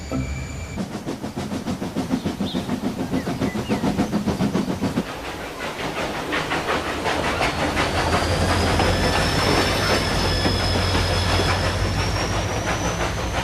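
Toy diesel engine running along a wooden railway, a steady rolling rumble with repeated clacking from the wheels over track joints. The sound is continuous and fairly loud, grows busier partway through and gains a faint high whine, with no talking.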